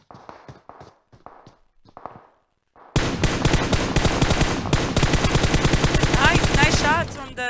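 Rapid, loud bursts of automatic gunfire in PUBG Mobile fill most of the clip after a few seconds of quieter talk, with sharp repeated shots and a brief sweeping tone near the end.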